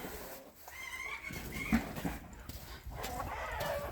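Bantam chickens cluck and call faintly in a backyard poultry yard while hay is tossed to them, a soft, uneven mix of bird calls in the distance with some rustling, quiet overall.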